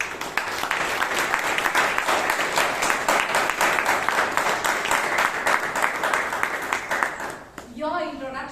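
Applause from a Toastmasters meeting audience rolls on steadily for about seven seconds, a dense wash of many hands clapping, before a speaker's voice takes over at the end.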